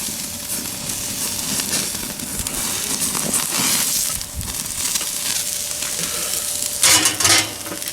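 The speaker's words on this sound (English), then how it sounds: "Look at that complete sear." A ribeye steak sears on a Weber kettle grill: a steady, close crackling sizzle with faint scraping, and a louder burst of sizzle near the end.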